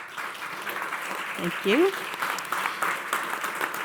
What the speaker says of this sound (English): join me for a big round of applause for the panel